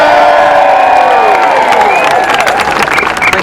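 A large outdoor crowd at a pro-European march cheers, whoops and applauds loudly and continuously, with shouts rising above a dense wall of clapping close by.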